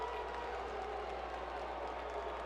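Baseball crowd at a minor league game reacting to a close tag play at a base, a steady, fairly faint roar of voices with some clapping, continuous and distant throughout.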